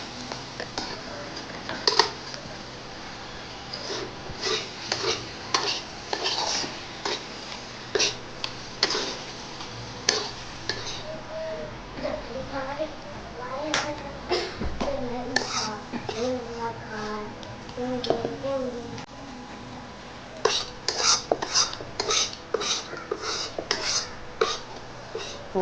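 A metal spoon scrapes fried onion masala out of a pan, a run of sharp clicking scrapes coming in quick irregular bursts up close, with a quieter stretch of soft stirring and rustling in the middle.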